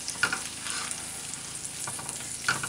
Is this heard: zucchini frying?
yes